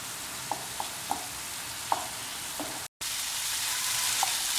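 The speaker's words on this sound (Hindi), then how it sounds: "टमाटर, लहसुन ये बढ़िया भुन रहे हैं।" Onions, tomatoes and garlic fry in masala for mutton bheja, a steady close sizzle with a few soft stirring clicks and a brief cut partway through.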